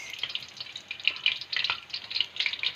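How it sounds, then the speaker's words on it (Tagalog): Fried chicken sizzles in a pan with a soft hiss and dense, irregular crackles and pops close by, the cooking now slightly burnt, with no voices. "Luto na ang fried chicken ko."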